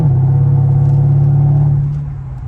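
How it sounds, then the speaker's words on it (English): A 2009 Mercedes SL550 R230 cruises along, its V8 giving a deep, steady, muscle-car rumble that holds loud and close before easing off slightly toward the end, with no talking. "Just cruising around, it just sounds like a nice muscle car."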